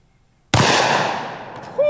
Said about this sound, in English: Taurus ultralight titanium 44 Magnum. Haven't shot this one in a while